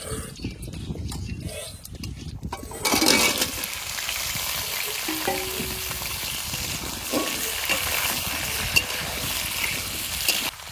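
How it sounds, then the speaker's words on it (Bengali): Potato pieces frying in hot oil in a home kitchen pan, cooked in the same oil as catfish for a village-style Bengali curry, a steady close crackling sizzle with a brief louder burst, continuing throughout with no talking. "এবার মাছগুলো তেলে আলুগুলো ভেজে নেবো"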